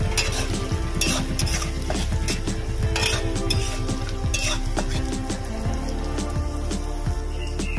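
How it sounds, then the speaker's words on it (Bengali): Chopped onions fry in hot oil with whole garam masala and bay leaves for Bengali aar fish jhal, a dense continuous sizzle under repeated clinks and scrapes of a spoon stirring against the pan, close and loud, no voices. "কুচিয়ে রাখা পেঁয়াজ, পেঁয়াজটা ভালো করে ভেজে নেব।"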